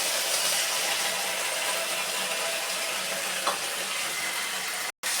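Ground ginger and cumin paste goes into hot oil for a tilapia fish curry, giving a steady close hissing sizzle with a small scrape partway through and a brief cutout near the end.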